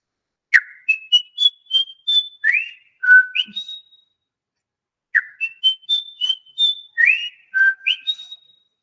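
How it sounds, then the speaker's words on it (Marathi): A bird, the nest-building hawk-like species of Thane and Dombivli, gives two clear whistled phrases, each a quick run of rising and falling notes, loud and close with a short pause between them. "तर ती शीळ अशी असते बघा या पक्षाची"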